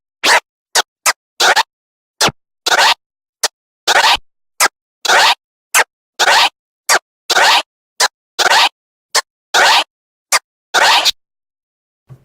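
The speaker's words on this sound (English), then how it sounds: "the crab scratch, for example, which is where you start to use more fingers, and you just open that fader very slightly and get a kind of a feathered, fluttery sound" Crab scratch on a DJ controller, the crossfader flicked open with several fingers to give a feathered, fluttery sound: about two dozen short, sharp scratch bursts in an uneven stuttering rhythm, loud and close, with no voices.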